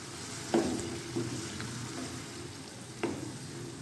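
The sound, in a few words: boiled chickpeas frying with green chillies in a pan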